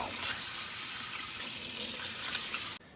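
Running tap water rinses a part of a cordless Milwaukee paint sprayer under a faucet, a steady close splashing rush that cuts off abruptly near the end.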